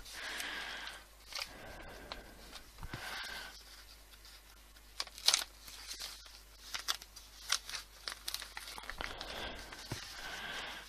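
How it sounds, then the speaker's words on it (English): A paper artwork is peeled and worked off a backing sheet with soft crinkles, scrapes and brief tearing rustles, close and quiet, arriving in irregular bursts without speech. "If I can just get it off this piece of paper."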